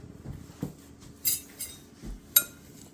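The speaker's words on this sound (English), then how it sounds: "Just gonna stir it up." Heavy whipping cream being stirred into self-rising flour for two-ingredient biscuits, heard as a few scattered clinks and taps of a utensil against a bowl, close and fairly quiet, with no talk.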